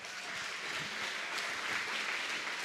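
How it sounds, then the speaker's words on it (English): Audience applause at a chamber of commerce awards ceremony, a sustained wash of many hands clapping that holds steady throughout, moderately loud in a hall. "Let's give Brayton Johns a round of applause."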